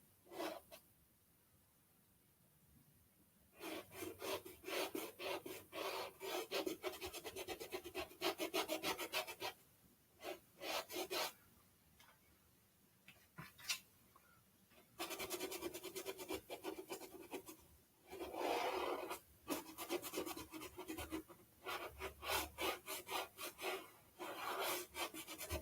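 Acrylic paint is rubbed off a canvas in bursts of dry scratchy scrubbing, close and quiet, with short pauses between strokes and no talking.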